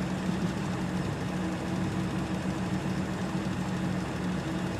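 A small Ford tractor idles in Farming Simulator 2013, a steady low engine hum with a constant drone that holds evenly throughout, no voices.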